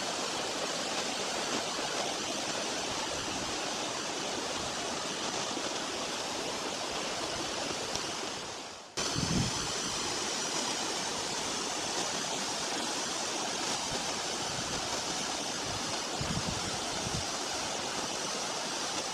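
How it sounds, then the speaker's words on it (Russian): A mountain waterfall near Dushanbe roars in a steady, broadband rush of falling water, loud and constant throughout, with a brief dip and a sharp thud near the middle. "одно из любимых мест, это водопад на 53-м"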